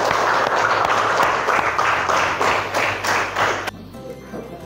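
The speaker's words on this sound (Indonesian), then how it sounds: "Kasih aplaus dulu untuk teman kalian." Classmates clapping for their friends in a classroom, a burst of hearty applause that carries on for several seconds and then stops abruptly, leaving quiet room tone.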